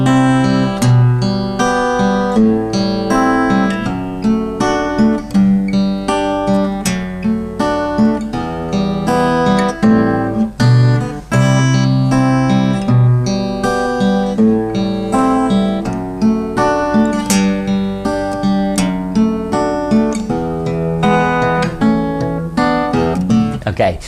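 An acoustic guitar plays the bridge of a song, a strummed and picked passage with steady rhythm and ringing chords, close and fairly loud, no voices.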